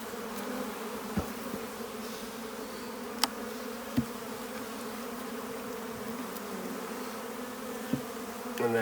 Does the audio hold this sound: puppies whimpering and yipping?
no